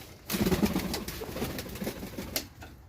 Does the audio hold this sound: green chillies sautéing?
no